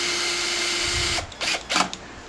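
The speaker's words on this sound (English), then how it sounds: "I picked that little drill up about 8 years ago" A small Hyper Tough cordless drill from Walmart whirs steadily at close range for about a second, then cuts off, leaving a few short clattering bursts of handling noise.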